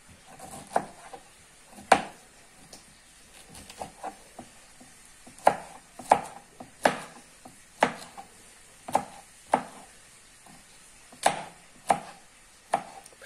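A knife slices pineapple into very thin strips on a board, giving crisp, irregular chopping taps, some louder than others, spread across a quiet room.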